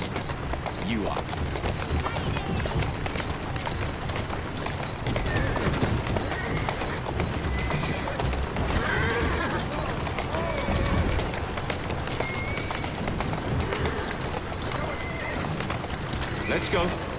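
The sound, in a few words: horse neighing and clip-clopping hooves in Assassin's Creed Syndicate video game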